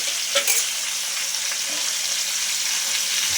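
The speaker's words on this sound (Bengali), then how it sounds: "হাফ চামচের মতো হলুদ গুঁড়ো দিলাম, 1/2 চামচের মতো নুন দিলাম, দিয়ে এবারে কাঁকড়াগুলো ভেজে তুলে নেব।" Crabs frying in oil with turmeric and salt for a crab curry, a loud dense close sizzle with a couple of brief stirring clatters near the start, and no talk.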